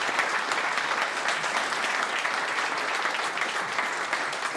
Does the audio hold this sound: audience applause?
yes